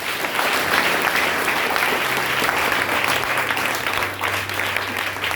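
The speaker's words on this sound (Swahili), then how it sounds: "Wapigieni makofi." A congregation at a church service breaks into dense, sustained clapping, loud and even throughout with no pauses.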